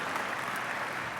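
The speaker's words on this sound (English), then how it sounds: "Big round of applause for them" Audience at a school district's Stellar Awards event applauds for the marketing and events team: a dense, steady wash of many hands clapping, fairly loud and continuous through the brief moment, with no talking over it.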